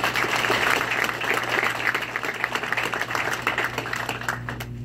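Audience applause at a military air defense graduation ceremony: steady clapping from a crowd through most of the clip, recorded with a low hum underneath, tapering off near the end.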